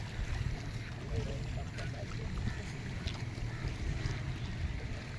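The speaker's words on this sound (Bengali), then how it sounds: "ঢেউয়ের শব্দ হয়তো শুনতে পাচ্ছেন" Waves washing over rising floodwater, a steady rushing and lapping roar with a heavy low rumble that stays continuous and fairly even throughout.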